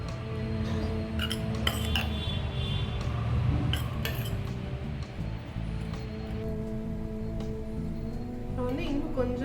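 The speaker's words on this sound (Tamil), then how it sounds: "இப்போ இதை நல்லா மிக்ஸ் பண்ணிக்கோங்க." A spoon stirs and mixes a healthy no-oil salad sandwich filling seasoned with pepper, giving soft, irregular clinks and scrapes against a bowl that continue close and steady.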